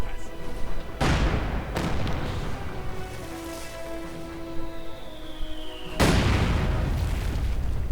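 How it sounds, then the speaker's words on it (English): Artillery barrage explosions from a real-time strategy game with Red Army and Panzer units: heavy booms at about one, two and six seconds, each followed by a rumbling decay, with a faint whistling shell sound in between. "And another swift barrage in the hopes of getting his opponent's heads down."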